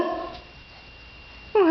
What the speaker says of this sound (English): What's that doggy saying?